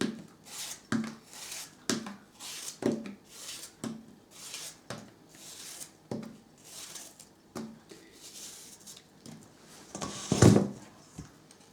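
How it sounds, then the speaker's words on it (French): Apples being sliced with a knife while making a Forez-style apple pie with butter puff pastry: a steady series of about a dozen short cutting taps and scrapes at roughly one per second, close up, with a louder clatter near the end. "Et je coupe mes pommes."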